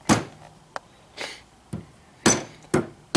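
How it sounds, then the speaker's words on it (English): A hammer bashes a busted matching transformer balun in about six sharp, separate blows. The hits are close and loud, with short pauses between them and no voices. "bash it with a hammer."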